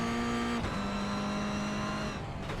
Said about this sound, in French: On est à bord de Jason Lapointe, à bord de sa voiture L'Énergie, qui a commencé les qualifications.